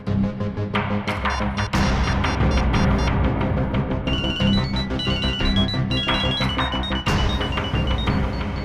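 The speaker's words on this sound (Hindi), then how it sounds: "मेरे फोन करने पर अलग तरह की रिंग बजी?" A loud, unusual electronic ringtone plays continuously as a dense melody, with high beeping notes joining in the second half; no voices.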